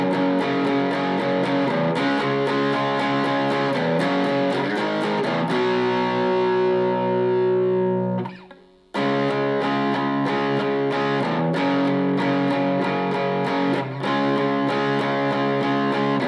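Distorted electric guitar plays the pre-chorus riff of a song, a steady run of chords with a brief drop to near silence around the middle before the riff resumes at full level.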